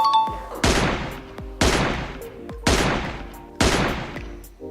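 Four loud, evenly spaced single shots from a UMP in PUBG Mobile, each a sharp crack with a short decaying tail, close and alone without talk.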